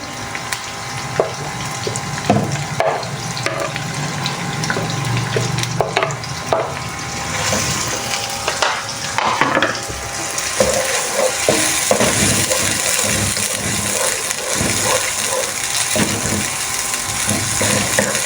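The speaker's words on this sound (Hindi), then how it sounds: "अब मैं इसमें चॉप किया हुआ प्याज डाल दूँगी।" Chopped onion sautéed in hot oil for sohanjna keema, a steady close sizzle with stirring and scraping clatter of a spoon against the pan running throughout, no voices.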